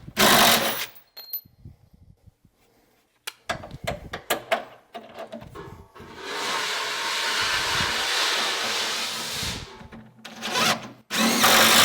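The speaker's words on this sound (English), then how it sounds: "I need to do a little bit of grinding." A power grinder taking 1/8 to 1/16 inch off a bolt head in a North Idaho shop: a sustained, loud, harsh whine lasting a few seconds, preceded by scattered clanks and handling clicks.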